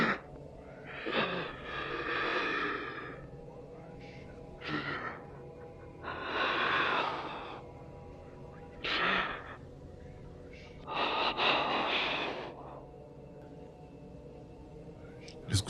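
Strained, pained breathing used as a horror-story sound effect: several drawn-out ragged breaths and gasps spaced through the stretch, close and fairly loud, with no talk over them.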